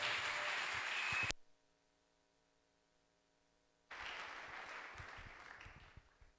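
Church congregation applauding and cheering for a pastor during a Sunday worship service, a dense roar of clapping that cuts off abruptly, leaves a stretch of near silence, then swells back up again loud and sustained.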